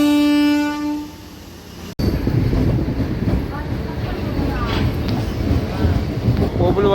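A DEMU passenger train at Obulavaripalli junction railway station, on the Nandyal to Renigunta route, sounds a loud steady horn for about two seconds, then rumbles loudly along the track with heavy wind buffeting.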